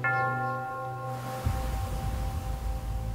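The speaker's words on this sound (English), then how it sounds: "The bell invites me." A single church bell strike rings out and decays with a long shimmering hum, giving way to low rumbling background noise.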